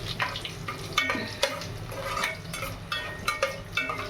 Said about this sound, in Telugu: లైట్ ఎండుమిరపకాయలండి. ఇవి పటపట అని పైకి పడతాయండి మన మీద.